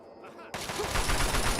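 M1 Garand rifle fire in a Fallout video game, a sudden burst of close, loud, rapid gunshots that keeps going, with a voice faintly present beforehand.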